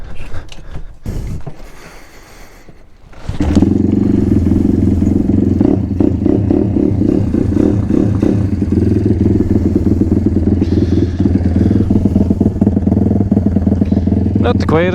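An M2R RF160 road-legal pit bike starts up after some handling noise, then its single-cylinder engine idles loudly and steadily with a rattly mechanical clatter, close to the microphone for the rest of the stretch.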